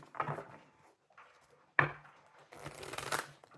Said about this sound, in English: I've been shuffling for a little bit off camera, so I'm just going to do a couple more